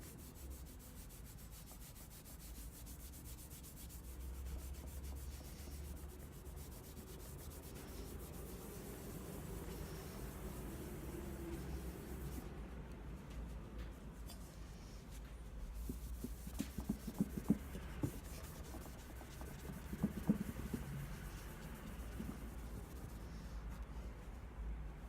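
Autosol, a slightly gritty polishing cream, rubbed by hand onto tarnished silver plate, making a steady close scratchy rubbing that runs continuously with brief louder strokes near the end.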